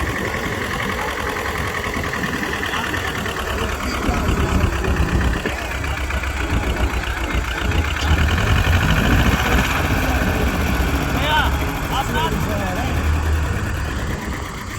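An Escort tractor engine labouring in second gear during a tractor tug-of-war contest, a steady loud diesel drone with throbbing vibration throughout, while someone commentates over it.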